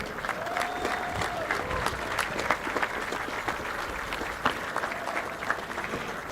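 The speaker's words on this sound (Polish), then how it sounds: "Wielkie brawa dla nich." A pilgrimage crowd arriving at Jasna Góra applauds a newly married couple, steady outdoor clapping with occasional sharper claps and a few background voices.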